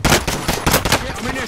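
In a video game, a Bull Frog SMG fires several rapid, loud bursts of automatic gunfire in quick succession, each chattering burst close and sharp.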